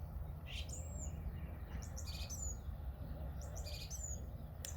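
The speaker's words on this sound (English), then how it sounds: "So lovely listening to the bird song." Birds sing outdoors among trees and hedgerows, a few bright chirping phrases repeating over a low rumbling background, fairly faint and without talk.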